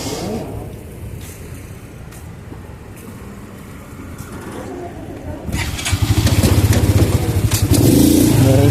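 A Honda Pop 110 motorcycle with a modified exhaust idles with a low rumble, then at about five and a half seconds it revs hard into a loud, rough, close-up roar that holds to the end.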